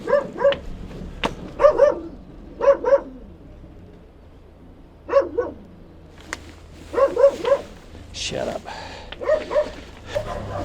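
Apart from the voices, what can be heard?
dogs barking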